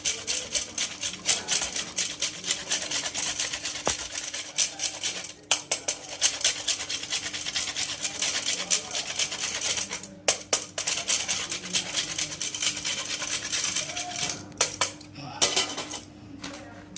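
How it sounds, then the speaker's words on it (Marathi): Coconut grated for a broken wheat dalia khichdi, a continuous close scraping rasp that runs steadily with brief pauses between bursts of strokes, no talk. "थोडंसं खोबरं किसून घालणार"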